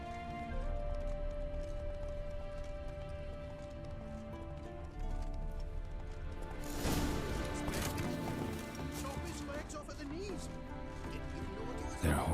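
A horse gallops in The Witcher 3 with quick rhythmic clip-clop hoofbeats over a constant game ambience. A voice speaks over it, and clattering bursts come in the middle.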